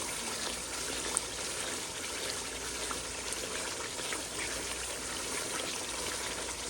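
Water streams steadily into simmering kofta curry gravy, a continuous broad pouring hiss for several seconds at moderate level with no voices.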